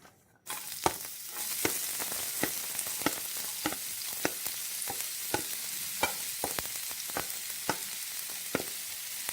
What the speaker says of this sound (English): To this, we're going to be adding in some chopped ginger and chopped garlic.